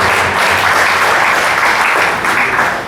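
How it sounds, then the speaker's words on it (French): Audience applauding a group of young people, dense sustained clapping from a large crowd, loud and continuous throughout. "j'aimerais que vous puissiez les féliciter tout particulièrement en les applaudissant véritablement"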